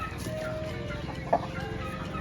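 A chicken clucks softly with a brief louder cluck, close by, over steady low background noise.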